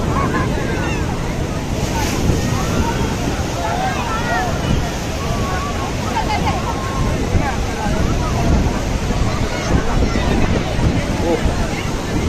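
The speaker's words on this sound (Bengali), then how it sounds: "ব্যাপক জলোচ্ছ্বাস ব্যাপক জলোচ্ছ্বাস" Heavy sea surge at Digha beach, with loud, continuous broadband roar of crashing waves and strong wind buffeting the microphone, steady throughout with surges around the middle.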